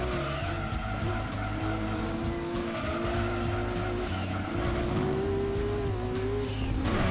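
Lister Storm race car at Red Rock Raceway in Gran Turismo 2, its engine droning steadily while the tires squeal and skid through corners, loud and continuous, no voices.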